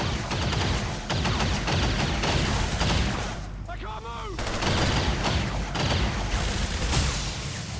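Heavy, sustained gunfire in the video game XCOM 2, a loud, dense barrage that runs nearly unbroken, with a brief warbling tone in the middle and a voice speaking underneath.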